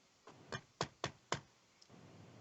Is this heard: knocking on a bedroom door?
yes